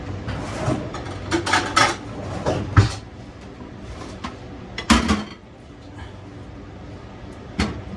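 Dried fish (daing) set onto a plate in a home kitchen, heard as scattered clinks, taps and knocks of the plate and utensils at uneven intervals, close and moderately loud.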